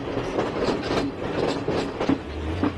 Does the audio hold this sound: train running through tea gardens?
yes